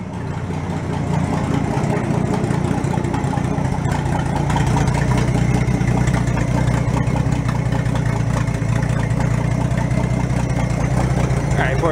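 An old, worn Ford truck engine idles steadily with a ragged, rough-sounding exhaust, a constant loud low rumble filling an enclosed garage throughout.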